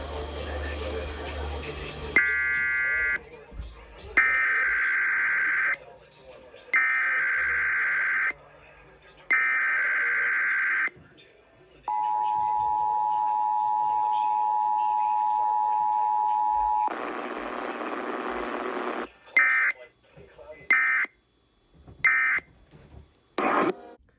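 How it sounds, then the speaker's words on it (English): A radio station's Emergency Alert System required weekly test plays a sequence of harsh digital header bursts, then a long steady attention tone, followed by more short data bursts, loud and clear with brief gaps between. "We need to interrupt regular programming to activate the emergency alert system."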